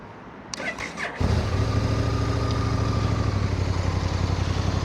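Motorcycle with stock exhaust can cranking briefly and firing up, then settling into a steady, close idle rumble with no talking.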